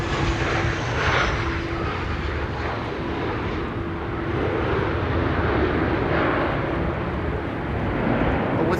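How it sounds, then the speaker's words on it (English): Air France flight 1640, an airliner arriving from Paris at Amsterdam Schiphol during a storm, gives a continuous loud engine roar with a gentle swell and dip, close and unbroken. "Air France, flight 1640, arriving from Paris"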